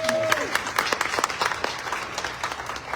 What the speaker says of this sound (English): Let's give them another hand clap this morning.